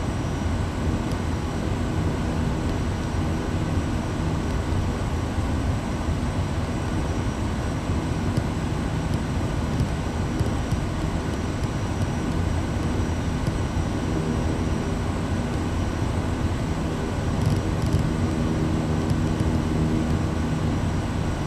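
A simulated light-aircraft engine in Microsoft Flight Simulator 2020 drones steadily and loudly, a dense unbroken roar lasting throughout with no talk.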